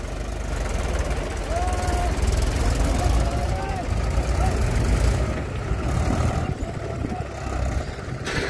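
A Mahindra 265 tractor working hard pulling a loaded dumper, its engine a loud, continuous rumbling drone with knocking, heard close up with people talking over it.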